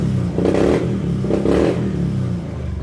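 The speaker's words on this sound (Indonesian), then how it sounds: "Motornya sudah hidup" A Honda Beat ESP scooter engine, which has an intermittent ignition fault, runs close by and is revved twice in short bursts, each rev swelling then falling back to a rough, uneven idle.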